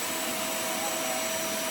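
An electric vacuum cleaner runs steadily and loudly at close range, a continuous broadband whine with a faint tonal hum, used in a children's ball-catching game; no voices.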